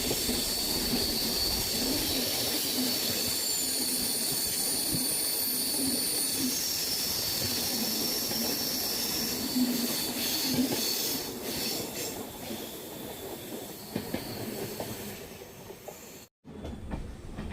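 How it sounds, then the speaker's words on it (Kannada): An express train from Thiruvananthapuram North to Mysore runs through the outer approach to Majestic, Bengaluru, its wheels squealing in long, high, sustained tones over a steady rumble and clatter that eases and fades near the end. "ತಿರುವನಂತಪುರಂ ನಾರ್ತಿಂದ ಮೈಸೂರಿಗೆ ಹೋಗೋ ಎಕ್ಸ್ಪ್ರೆಸ್ ಟ್ರೈನು ಮೆಜೆಸ್ಟಿಕ್ ಔಟರಲ್ಲಿ ಜಿಂಗ್ ಆಗ್ತಿದೆ"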